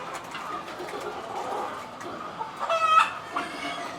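Chickens cluck softly in the background, with a louder burst of clucking and squawking near the end, close by on a quiet farm.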